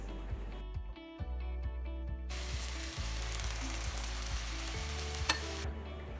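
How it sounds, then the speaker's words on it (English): Eggs are poured into an oiled pan beside cooking vegetables for chicken fried rice, and a loud, continuous sizzle and crackle follows with no talk. "I'm gonna pour my eggs, which is gonna sound crazy, but onto the side that doesn't have the vegetables"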